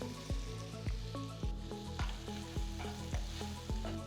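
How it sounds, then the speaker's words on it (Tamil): Sliced nendran banana sizzles in ghee in a pan while a spatula stirs it. About seven steady scrapes and clacks repeat over a continuous soft frying hiss, with no talk. "பழம் நெய்யில் கொஞ்சம் நல்லா வதங்கணும்"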